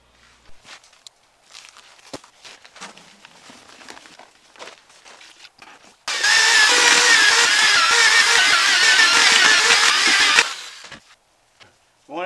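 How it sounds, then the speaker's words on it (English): Mortar for a mortar-bed shower pan in a skoolie is mixed with a power mixer that roars loudly and steadily for about four seconds after scattered handling and scraping noises. "let's go mix some mortar."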